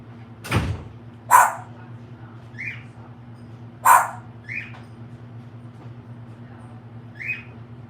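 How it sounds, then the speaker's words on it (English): Indoors, a dog gives sharp, loud barks spaced a few seconds apart over a steady low hum, with fainter shorter yips in between. "He won't stop barking, so I go out and tell him to stop."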